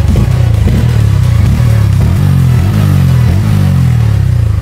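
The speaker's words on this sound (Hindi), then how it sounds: "हल्के से लेंगे, हल्का रेप करेंगे, ज़्यादा नहीं।" Loud, close exhaust from a Bajaj Pulsar N150 150cc motorcycle as the engine is blipped lightly a few times, pitch rising and falling over a steady idle.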